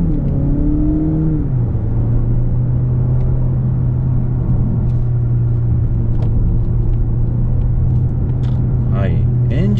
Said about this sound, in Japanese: エンジン音いいですよね、やっぱり。